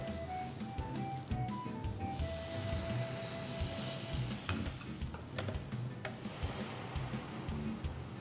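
Red pepper mozzarella panini sandwiches sizzling in a hot pan, a steady close hiss with occasional crackles and a few clinks and scrapes of cookware, no talking.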